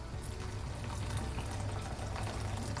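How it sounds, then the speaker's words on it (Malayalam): Boiling water is poured into a pan of Kottayam-style ginger curry with grated jaggery, giving a steady, even liquid rush and bubbling fill that lasts the whole stretch at a moderate level. "ഇനി ഇതിലോട്ടൊരു 1/4 ഗ്ലാസ് തിളച്ച വെള്ളമാണ്"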